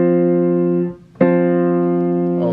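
Two piano notes struck together in the left hand, ringing steadily, then the pair struck again after a short dip, clear and close with no voices.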